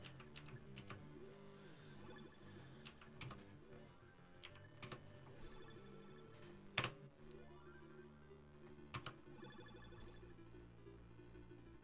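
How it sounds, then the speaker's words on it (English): Quiet keystrokes tap irregularly on a computer keyboard, soft clicks and occasional sharper key hits over a background of faint tonal music. "I need to use a keyboard for this one."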